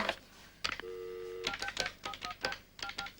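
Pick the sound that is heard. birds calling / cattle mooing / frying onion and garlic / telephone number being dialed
telephone number being dialed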